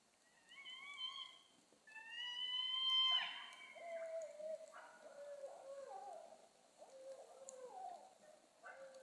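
Several owl hoots in a series, clear and fairly close, with pitch gliding downward, heard alone without any talking.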